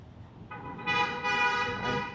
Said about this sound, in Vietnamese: Có cả tiếng còi xe ô tô rất là to luôn.